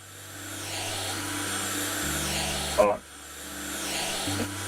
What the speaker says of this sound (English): It's even more irritating than a squeegee. It kind of sounds like a vacuum cleaner.